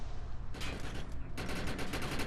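Rapid automatic gunfire aimed at mutants in Defiance, two bursts of fast, closely spaced shots, the second longer and louder, over steady background game noise.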